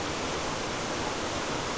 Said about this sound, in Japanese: 滝のこの音がすごくて